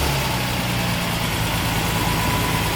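A 3.5 liter V6 car engine idles just after a cold start, a steady, close, even hum with a constant low drone and no speech.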